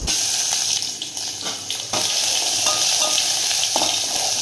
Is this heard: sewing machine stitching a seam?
no